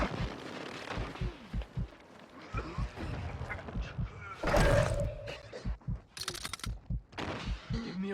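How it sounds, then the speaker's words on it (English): Enemy precision airstrike explosions in the mobile battle royale game Warzone Mobile: loud, booming blasts and crackling bursts mixed with gunfire and game voice callouts. "Enemy precision airstrike."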